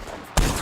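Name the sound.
rifle gunshots in a video game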